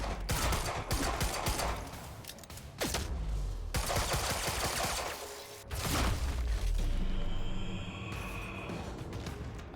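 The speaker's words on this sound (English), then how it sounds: "The shooting in this game is very fun." Quantum Break gameplay erupts in bursts of rapid gunfire, loud overlapping volleys and booms with brief lulls between heavy exchanges, fading into quieter tones near the end.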